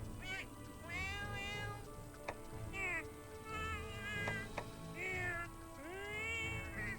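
In Monster Hunter 4 Ultimate, a customizable cat companion voice gives repeated plaintive meows, about six drawn-out mews spaced across several seconds, close and distinct above quiet game background sound.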